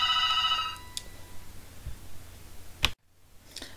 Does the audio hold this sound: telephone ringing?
yes